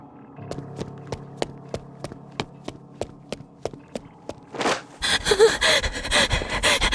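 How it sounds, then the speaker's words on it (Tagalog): A person panting hard after running: a rapid, regular series of close breaths that stops, followed by a louder burst of rustling and commotion. "bakit hinihingal ka dyan?"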